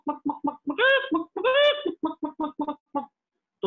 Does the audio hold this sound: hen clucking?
yes